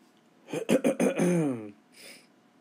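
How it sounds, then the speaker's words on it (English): A single burst of harsh, rasping throat clearing with a few choppy coughs, close up, followed by a short breathy exhale. "I apologize for all the coughing and clearing of the throat"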